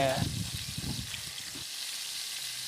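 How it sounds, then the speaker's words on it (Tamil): Brinjal pieces for a Jaffna-style curry fry to golden in hot oil, a close bubbling sizzle with stirring clatter that drops off partway through, leaving a faint hiss. "சரி இப்ப இவ்வளவு பொறிஞ்சது காணும் நல்லா பொன்னிறமா பொறிஞ்சிட்டு அதை இதுக்கு இறக்கி வைப்பேன்"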